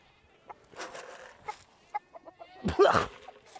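Chickens cluck in short, scattered bursts around a small flock, with faint buzzing insects and a louder flurry of activity near the end.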